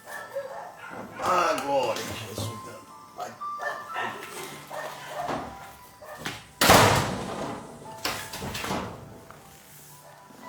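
Dogs bark outside a room during a Brazilian local program, short barks heard faintly under someone speaking, followed by a loud door slam and more distant barking.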